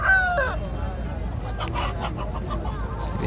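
Chickens cluck and a rooster calls briefly at the start, over a busy, noisy bird market background with people talking nearby.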